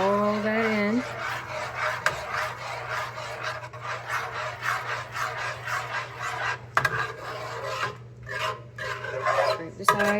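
Spoon or spatula stirring and scraping custard ingredients against the sides of a pot for a tarte à la bouillie, with repeated rasping strokes close by over a low steady hum.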